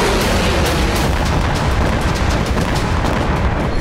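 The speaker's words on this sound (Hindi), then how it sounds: "वीडियो में हमास लड़ाके M90 रॉकेट से फायर करते नजर आ रहे हैं।" M90 rockets fired by Hamas fighters toward Tel Aviv: a loud, continuous roaring blast with repeated sharp bursts cracking through, dense and close for the whole stretch.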